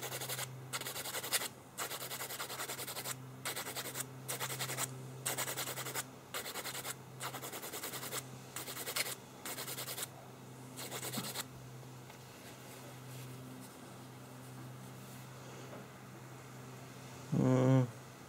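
A towel is scrubbed over a ShengShou 5x5 Rubik's cube in quick, rhythmic rubbing strokes for about eleven seconds. A steady low hum continues underneath, and the scrubbing then stops, leaving quieter background noise and a brief thud near the end.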